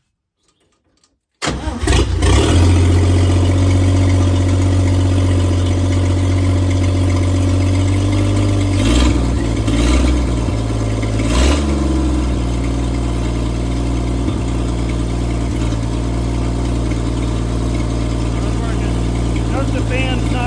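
A 1954 Metro car engine with no radiator, fan belt or alternator fires on the key after a short silence, then settles into a loud, steady idle with a few brief revs.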